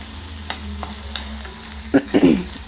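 Radish chutney ingredients frying in a pan with a low steady sizzle, a few light clicks of a spoon, then a louder clatter and scrape as the pan is stirred near the end.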